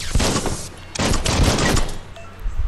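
Gunfire from Biomutant crackles in rapid bursts, loud and dense, with a short gap between volleys and no speech over it.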